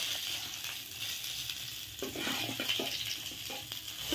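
Green chilies frying in hot oil for baingan bharta give a steady close sizzle with a few soft utensil scrapes and taps partway through; no voices.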